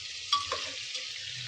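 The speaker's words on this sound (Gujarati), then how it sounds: "રીંગણાનું શાક વઘારીએ" Brinjal curry is stir-fried and tempered in a pan, giving a brief, soft sizzle with one sharp clink of a stirring utensil near the start.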